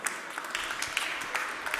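Brief burst of audience clapping at a chess festival, fairly loud and scattered-dense, running throughout without voices.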